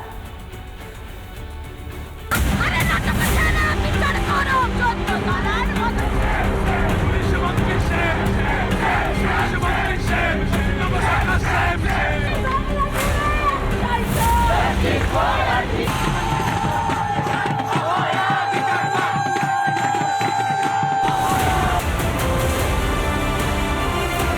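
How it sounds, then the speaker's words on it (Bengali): A large crowd of students chants and shouts in protest while surrounding a college building outside. The loud, dense roar of voices continues throughout, with traffic noise in the background. "কলেজ ঘেরাও করে বিক্ষোভ দেখান তারা"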